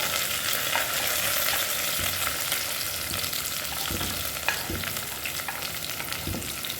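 Onion and curry leaves frying in hot oil after mustard seeds have popped, producing a loud, dense, continuous sizzle close by, with scattered crackles and spits and no talking.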